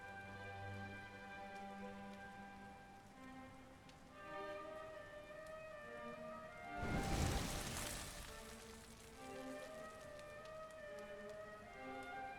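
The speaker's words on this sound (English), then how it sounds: "Looks like the rain's dying down." Faint steady rain patters in Dragon Quest XI S, a soft hiss under tonal game music, swelling briefly into a louder gust of rain midway.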